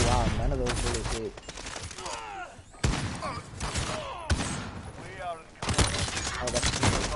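Bursts of automatic gunfire from a Call of Duty Modern Warfare multiplayer match, loud, dense rattling volleys with short gaps between them, mixed with game effects and a voice talking over the shooting.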